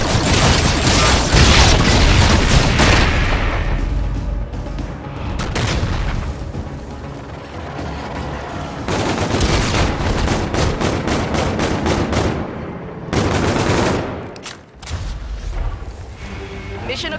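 A frag grenade explosion and gunfire in Call of Duty: Infinite Warfare, with loud booms and bursts of automatic fire repeating across the stretch, dense and close with brief lulls between.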